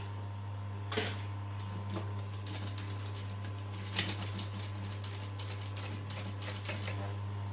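A sewing machine top-stitches a Lycra bum bag at a 2.5 stitch length, its motor humming softly and steadily close by, with faint rhythmic ticking and a couple of louder clacks.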